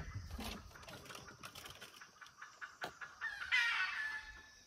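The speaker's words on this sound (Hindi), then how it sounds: "तो पीछे अभी मुर्गों की आवाज़ सुनी ना आपने दोस्तों" Roosters crow and cluck in jungle tiger territory at Jim Corbett National Park, sounding as alarm calls, faint and somewhat distant, with several short calls and a longer crow near the end over quiet ambience.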